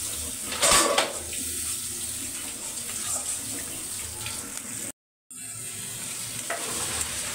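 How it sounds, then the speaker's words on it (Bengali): Spice pastes of ginger, turmeric, chilli, cumin and mustard are stirred and sautéed with potatoes in a pan: a continuous sizzle with spatula scraping and a brief silent gap midway. "ভালো মতো নেড়ে চেড়ে কষাই নেব।"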